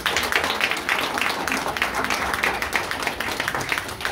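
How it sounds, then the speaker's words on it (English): An audience at a Mock Coronation community event gives a steady round of applause, dense clapping filling the whole few seconds at a fairly loud, even level. "so just another round of applause for Janet and Pam."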